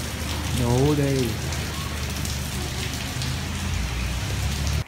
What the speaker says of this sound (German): Raining the whole day.